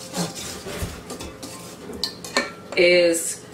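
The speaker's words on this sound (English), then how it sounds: "You want to mix this." Apple cobbler dough being mixed by hand in a bowl, with close scraping and clinking of a utensil against the bowl in irregular strokes, a louder rattling clatter near the end.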